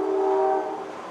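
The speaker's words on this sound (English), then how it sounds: "You can hear the train, you can hear the heater kicking on." A train passing outdoors in mid-afternoon sounds a steady tonal horn that holds strong for about half a second, then fades and thins as the sound rolls on with a soft rumble underneath. No voices are heard.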